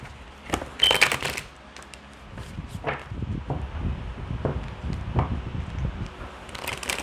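Cards are shuffled close up, with quick riffling bursts and soft slaps and rustles scattered over several seconds, no voices.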